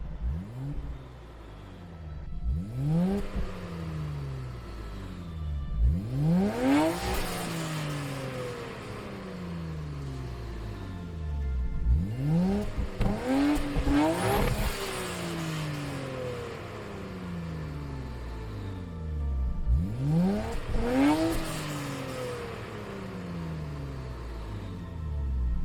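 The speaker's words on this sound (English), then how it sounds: "the Nissan R34 Skyline GTR Z-Tune" Nissan R34 Skyline GT-R Z-Tune driven in Gran Turismo 7, its engine revving up through repeated rising sweeps with gear changes, settling and climbing again in a loud, continuous cycle, no talk.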